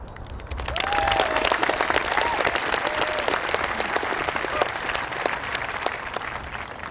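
Sustained applause from a large crowd at a high school commencement, steady and full, with a few whoops and cheers rising over the clapping.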